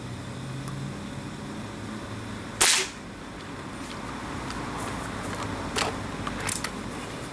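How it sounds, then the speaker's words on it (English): An air gun fires a pellet into a standing 2x4: one sharp, loud crack stands out over steady background hiss, then a few faint ticks follow, all close by with no voices. "I'll be shooting that 2x4 standing up."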